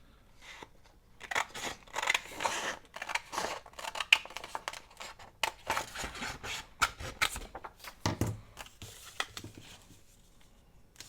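Scissors snipping through a piece of junk mail paper, a series of close, crisp cuts in uneven bursts, some quick runs of short snips, with brief pauses between.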